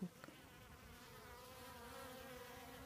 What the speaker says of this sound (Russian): Ой, ничего себе, может это лесные пчелы?